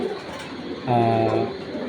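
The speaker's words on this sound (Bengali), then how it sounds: "এত সুন্দর এক জোড়া লোকাল কবুতর" A pigeon gives a single soft, low coo up close against a quiet background hum.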